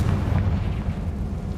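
A Confringo spell explosion in a Hogwarts video game, a loud, deep rumbling blast sustained for under two seconds.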